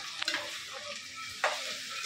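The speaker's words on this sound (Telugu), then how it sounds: "ఇదిగో బంగాళదుంప ముక్కలు వేసుకుంటున్నాను. ఇవన్నీ వేగాలి బాగా." Potato pieces fry with onion and garlic in a pan for a potato and cucumber curry, a close steady sizzle broken by two sharp stirring scrapes, no talking.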